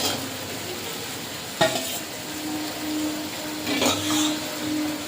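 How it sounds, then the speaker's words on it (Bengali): Fried potatoes being stirred into spiced masala that has released its oil in a pan, a soft continuous sizzle broken by a sharp utensil knock and later bursts of scraping and clatter, close by. "মশলা থেকে তেল ছেড়ে গেছে, এবারে ভেজে রাখা আলুটা দিয়ে দেবো।"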